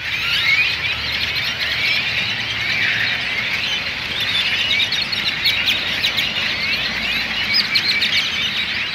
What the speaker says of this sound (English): And birds all in the parking lot.